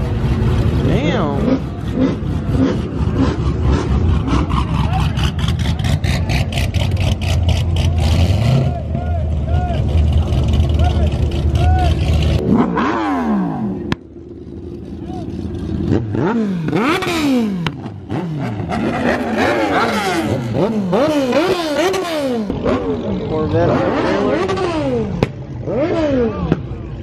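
A Chevrolet Corvette ZR1 revs hard at a crowded Texas street race, its loud engine rising and falling in repeated surging pulls while other cars drone nearby and people talk over the noise.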